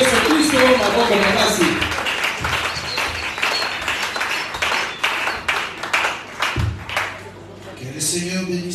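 Church congregation clapping and applauding throughout, dense rhythmic claps with cheering voices mixed in, loud and close, fading slightly near the end before swelling again.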